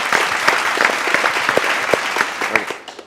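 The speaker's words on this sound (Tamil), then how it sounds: "நீங்க முதல்ல மோகனுக்கு ஒரு பெரிய கைத்தட்டல் கொடுத்துறீங்களா? கைத்தட்டுங்க." Schoolchildren at a special school clap for the magician Mohan, a lively, close burst of hand claps with distinct individual slaps standing out, fading slightly at the end.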